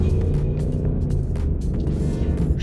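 A Hemi-powered Chrysler 300 idles up close, a loud, steady low engine rumble with a throbbing undertone and no talk.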